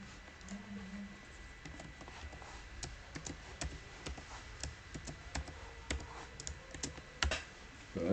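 Keys tapped out on a computer keyboard as a password is entered, a steady run of close, light clicks with a brief louder clack near the end and no voices.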